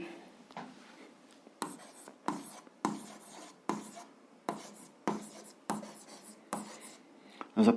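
A pen writes a math solution for a grade 7 algebra exercise on paper, about ten close scratchy bursts of strokes in an even rhythm, separated by short quiet gaps, with no talking.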